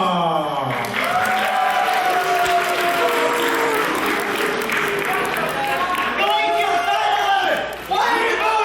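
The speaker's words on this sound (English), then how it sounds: "Why are you booing me when I'm right?" A convention audience boos loudly and steadily, with crowd shouts and a bit of clapping mixed in, filling the room for several seconds.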